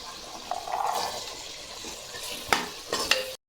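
Two green chillies and an onion fry in a pan, a steady soft sizzle broken by a few sharp scraping stirs of a spoon, fairly close and with no voices, cutting off abruptly at the end.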